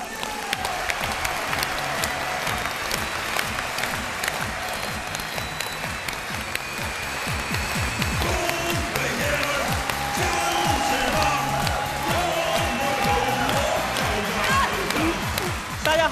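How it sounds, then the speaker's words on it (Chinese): A studio audience at a dating show applauding a young contestant walking on, sustained, loud clapping with some cheering and music, steady for the whole stretch. "掌声有请火炕男。"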